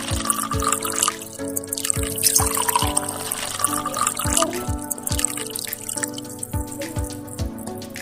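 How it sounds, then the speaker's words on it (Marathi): Milk, about four litres, poured into a pot, a continuous liquid splashing and trickling with a steady repeating low thud, fairly close and loud without talk. "आता माझी सहकारी दूध ओतेल हे जवळजवळ चार लिटर दूध आहे"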